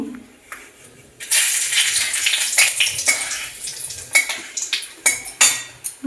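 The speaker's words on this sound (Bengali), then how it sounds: "এতে শুকনো লঙ্কাটা দিয়ে দেবো" Dried red chillies hit hot oil in a frying pan for a homemade chicken tarka, setting off a loud, steady sizzle with scattered clinks of a spoon against the pan, no voices.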